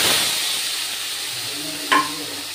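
Dalia and moong dal go into a frying spice paste in a pan, giving a steady close sizzle and hiss with a brief scraping stir near the end.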